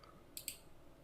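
Two quick, faint clicks of a computer mouse button in close succession against a quiet background, with no one talking.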